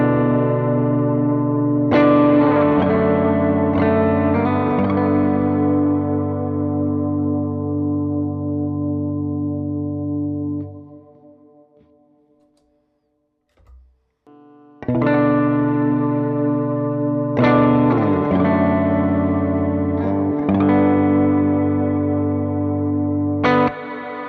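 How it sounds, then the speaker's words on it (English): Guitar through a Meris Mercury X reverb pedal on the Prism algorithm with a cloud-style preset: two long, loud, lush washed-out chord swells, each sustaining and fading, split by a near-silent gap, with no talking. "So first we'll start with the MercuryX. This is like my cloud style preset. I use the Prism algorithm."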